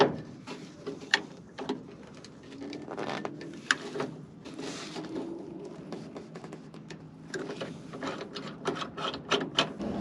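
A rivet nut being installed in the sheet metal of a 1.5-ton Chevy dually truck, with close metallic clicks, squeaks and tool taps in an irregular sequence, plus scattered faint background sounds and no talking.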